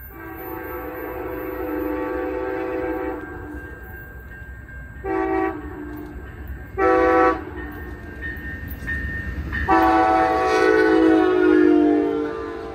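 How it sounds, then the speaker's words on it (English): Amtrak passenger train 350, led by locomotives including an EMD F59PHI in Amtrak California livery, rumbles loudly past a road crossing, sounding its multi-chime horn in long blasts and short toots over steady rail noise. "Amtrak 350 is about to make its normal afternoon appearance at Updike Road."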